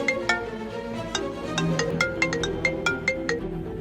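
A mobile phone ringtone for an incoming call plays a bright, repeating melodic pattern of quick tones. It is loud and close, with no talk over it.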